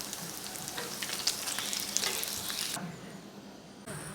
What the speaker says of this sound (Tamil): எல்லா சிக்கன் 65 நம்ம போட்டு இதே மாதிரி வறுத்து எடுத்தாச்சு.